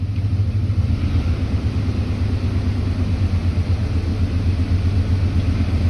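A vehicle engine runs at a steady, elevated idle after a throttle tap, its low rumble close and even and never settling back down, with the idle air control and throttle position sensor under test.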